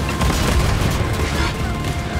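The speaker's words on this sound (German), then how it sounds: "Oh, er schießt auf mich." Gunfire and explosive booms erupt in the Wolfenstein Youngblood end boss fight as the boss shoots at the player, a dense, loud, continuous barrage of blasts.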